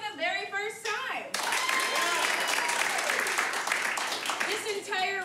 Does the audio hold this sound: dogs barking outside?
no